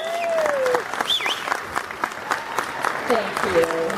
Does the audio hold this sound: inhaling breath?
no